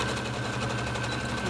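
A sewing machine running a backstitch on patchwork fabric, a continuous fast mechanical whir with a rapid, even stitching rhythm, close and steady throughout.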